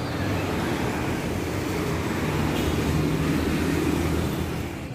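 A Sumber Selamat bus, a Sniper Pitu Loro 06, rolls past on a roadside, a broad continuous engine and tyre roar that holds steady and loud throughout with no talk.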